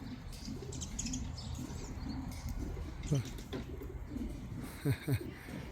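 Pigeons coo softly in short bursts while squabbling over a bath on a winter day, the low calls rising twice against a quiet background with faint chirps.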